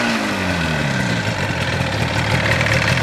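A 1977 Yamaha RD400 motorcycle idling at about 1200 rpm, a close, steady, buzzy two-stroke putter that barely changes, with a brief falling whine at the start.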